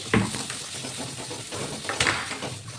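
Ash gourd leaves are stirred in a hot pan for a village-style paturi, giving a close scraping, shuffling stir over a light sizzle, with two sharper clinks of the utensil against the pan near the start and around the middle.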